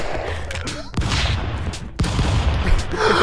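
Shotgun blasts crack out in the Stick Fight video game, three heavy booms about a second apart over a dense, busy clatter of game noise, loud and close.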